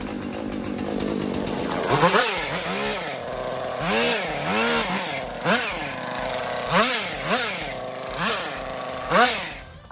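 A Husqvarna chainsaw runs after a tune-up, its engine revving up and down in repeated rising and falling bursts, loud and close, with no talking.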